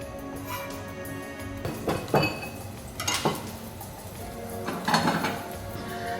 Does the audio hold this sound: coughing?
no